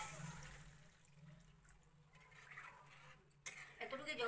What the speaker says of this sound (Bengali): তারপর জল দিয়ে দিই।